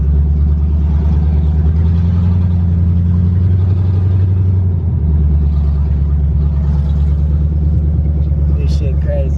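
A 1992 Camaro with a bad transmission drives around the block, its engine a loud, close, low rumble that rises in pitch and then drops as it shifts, running continuously throughout.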